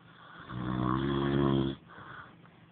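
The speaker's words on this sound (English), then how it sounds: "you're snoring" A man snores once, a long, deep, rumbling snore that swells and cuts off, followed by a softer breath, close and quiet with no talk.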